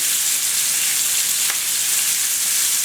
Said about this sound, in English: See how quick they fry up? Oh, they're so fast.